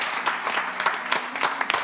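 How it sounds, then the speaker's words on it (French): Audience applause for slam competitors at a live slam poetry event, loose and uneven with individual claps popping out of a moderate, somewhat sparse crowd. "J'aimerais une fois encore vous demander d'applaudir sur les candidats."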